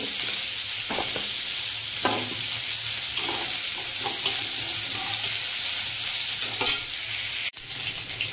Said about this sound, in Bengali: এবার আমি গোবিন্দভোগ চালটা আমি দিয়ে দেব এর মধ্যে